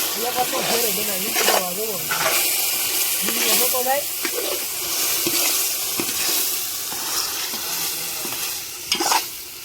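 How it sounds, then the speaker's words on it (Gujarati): Ginger, chili and garlic paste stirred in a hot pan, sizzling and hissing continuously while a spoon scrapes in repeated strokes, loud and close. "અને સારી રીતે મિક્સિંગ કરી નાખવાનું."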